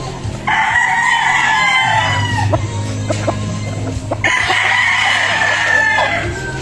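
A Sweater Boston Gray gamecock crows twice, loud and close, with clucking and other fowl sounds between the calls in a farmyard.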